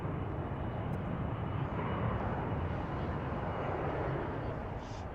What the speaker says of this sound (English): here's one taking off on runway